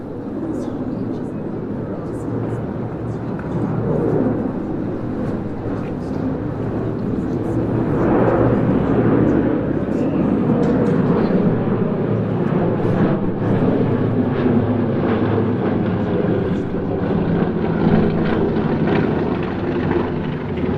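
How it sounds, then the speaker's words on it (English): Vintage Junkers Ju 52/3m three-engined aeroplane at an air display, a steady broad propeller drone that swells slightly midway and holds loud throughout, with voices over it. "This is the Junkers U-52 3M."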